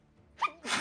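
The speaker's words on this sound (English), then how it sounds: "That was the cutest fucking sneeze I have ever heard on the goddamn internet." A single small, high-pitched sneeze: a quick sharp intake followed by a breathy burst, close and alone.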